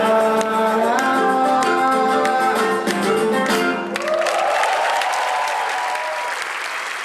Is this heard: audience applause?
yes